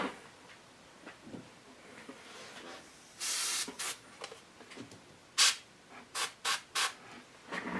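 Short bursts of spray paint hiss at close range onto the broken finger of an Evil Queen Sideshow statue during repair: one longer spray, then a series of quick, evenly spaced puffs over quiet handling noise.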